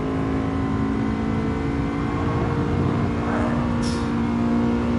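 Race car engine in GT Sport, a V2, droning steadily and loudly at high revs throughout, with a brief rising surge near the end and no voices.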